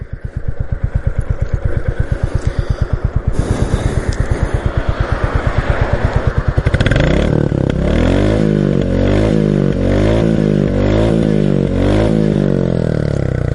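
A Royal Enfield Classic 350 motorcycle engine thumps in a steady, rapid idle, then shifts midway to a rougher, throbbing rhythm, close and loud with no voices.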